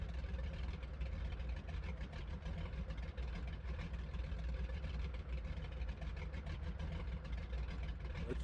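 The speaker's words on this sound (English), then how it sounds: "Love the sound of the purr of the radial engines on the Goose." Radial engines of a Grumman Goose amphibious aircraft running steadily, a continuous low throbbing purr at constant loudness, close by and uninterrupted.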